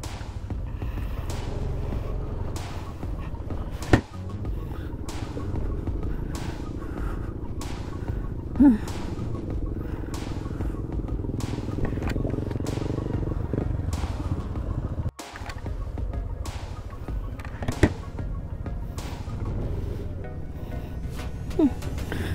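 Motorcycle and tricycle engines rumble steadily as vehicles cross a rough mountain road to Daraitan, with occasional thumps and rattles from the bumpy ground.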